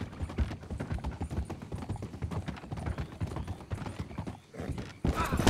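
Horse hooves clip-clopping in a western video game, a steady busy patter of hoofbeats with occasional neighs and whinnies, close and fairly loud, with game sounds mixed in and a louder burst near the end.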